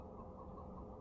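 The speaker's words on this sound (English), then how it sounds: "Hey, let's say hi to the chickens." Chickens clucking in a video game's chicken run, a brief, close, muffled burst of low clucks lasting about a second.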